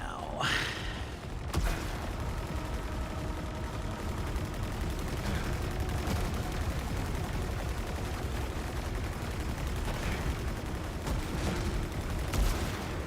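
Sustained gunfire from the video game Saros rattles on in a dense, continuous stream of shots with occasional sharper bursts, fairly quiet overall.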